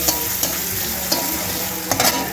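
Tomatoes being stirred into sizzling onions in a hot kadai, a steady close frying hiss broken by a few scraping spatula strokes, with no voices.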